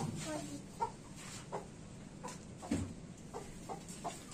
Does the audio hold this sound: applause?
no